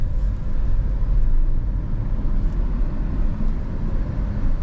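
A 2025 BYD Sealion 7 electric car accelerates hard, giving a steady, loud low rumble of road and wind noise with no engine note and no talking.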